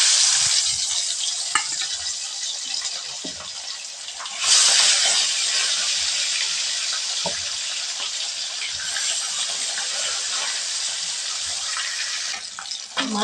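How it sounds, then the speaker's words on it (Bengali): Fish frying in oil in a wok gives a steady, close, hissing sizzle that swells sharply louder partway through and then holds without a break, with no talking. "কড়াইয়ে তেল দিয়ে দিয়েছি, এবার মাছটা ভেজে নেব।"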